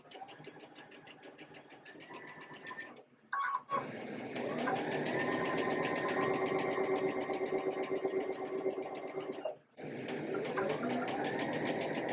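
A sewing machine joins quilt block units with a steady whirring, rapid stitching drone, stopping briefly twice and then restarting, heard close up with no talk.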